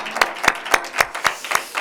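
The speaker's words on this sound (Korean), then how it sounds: "우리 하나님 앞에 다시 한번 영광의 박수 하겠습니다" Congregation clapping in unison during a Korean Sunday worship service at a rural church, roughly seven loud, evenly spaced hand claps, steady and rhythmic, with no talking.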